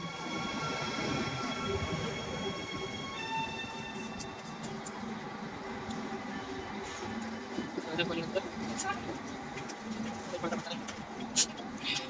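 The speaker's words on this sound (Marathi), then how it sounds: "ट्रेन निघाली आहे." ICE double-deck train pulling away, heard from inside the carriage: a low, steady rolling rumble with faint squeaks and clicks and rising tonal whine, moderately quiet throughout.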